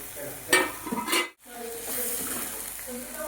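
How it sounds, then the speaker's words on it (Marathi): Paneer tipped into a pan of frying green peas, with a busy sizzle and stirring scrapes, a brief sharp clatter as it lands, then a steady frying hiss with faint voice traces. "आता मी ह्याच्यामध्ये टाकलेलं आहे पनीर"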